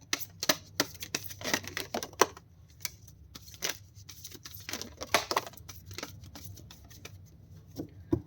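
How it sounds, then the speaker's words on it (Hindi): A deck of tarot cards being shuffled by hand, with irregular crisp slaps and riffling flutters in short bursts separated by pauses, close and fairly quiet without talk. "This is my last shuffle."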